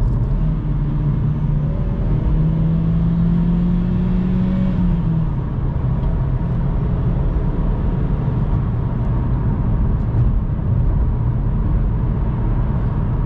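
A Vauxhall Corsa cruises on a motorway at night, a loud steady cabin rumble of engine and road noise with a faint rising whine from the drivetrain early on, no talk.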